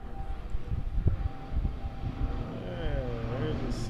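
Seaplane near Juneau takes off, its engine a broad, rumbling drone at a moderate distance that holds steady and rises slightly in pitch toward the end.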